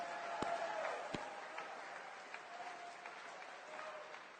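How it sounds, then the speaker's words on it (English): Applause from a political conference audience, broad and steady at moderate distance, with a few sharper claps near the start before it settles into an even wash that holds to the end. "let's just give a big round of applause"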